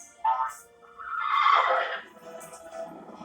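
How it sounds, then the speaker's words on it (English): A horse neighs loudly and nearby in one drawn-out whinny that rises and falls, followed by softer snorting breaths. "That's right, a horse."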